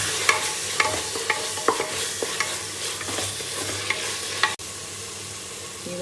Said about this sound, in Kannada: ಗಾರ್ಲಿಕ್ ಪೇಸ್ಟ್ ಹಾಕ್ಕೊತಾ ಇದ್ದೀನಿ. ಇದು ಸ್ವಲ್ಪ ಹಸಿ ಸ್ಮೆಲ್ ಹೋಗಬೇಕು.